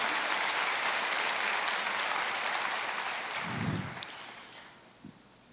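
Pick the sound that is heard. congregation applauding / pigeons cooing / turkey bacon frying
congregation applauding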